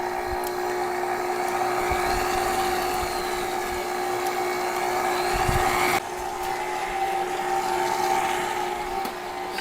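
An electric mixer kneads English muffin dough on low with a steady droning motor hum and whine, continuous and close, shifting slightly in pitch partway through.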